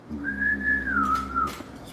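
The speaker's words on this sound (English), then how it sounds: "You can't whistle?" A person whistles one clear, sustained melodic phrase that rises and gently falls, close by and alone for about a second and a half.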